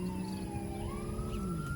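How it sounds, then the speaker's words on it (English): A siren wails at a distance, its tones slowly rising and falling, steady and moderately faint throughout the short stretch. "there's sirens in the background"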